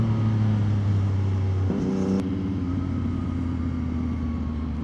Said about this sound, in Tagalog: Saka ito na rin yung testing ng bago nating muffler.